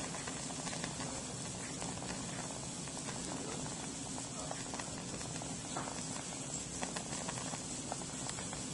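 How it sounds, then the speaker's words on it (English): A pot of water at a strong rolling boil, a dense continuous bubbling and hissing wash that stays steady and close throughout, with no speech over it. "go ahead and let it get a good strong boil"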